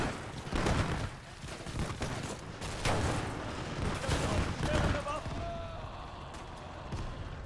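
Gunfire and flak cannon fire ring out in the World War II game Gates of Hell: bursts of rapid shots and heavy booms at varying distance, with a voice speaking in between.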